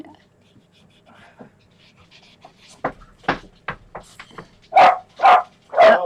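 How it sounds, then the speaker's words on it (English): A dog pants softly and whimpers, then lets out a run of loud, sharp barks close by, the last several coming in a steady rhythm. "Oh, sorry, bark alert."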